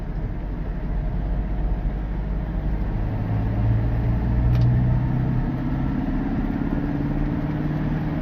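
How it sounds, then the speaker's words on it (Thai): A Toyota Vigo 3000 pickup engine pulls hard uphill under heavy throttle, a steady deep drone from inside the cab that swells slightly midway, with no voices. "เครื่องยังแรงดีอยู่เลยนะวีโก้สามพัน กดขึ้นเขาเหยียบคันเร่งลงไปนี่ปุ๊บปาร์ตมากเลยนะแรงดีมาก"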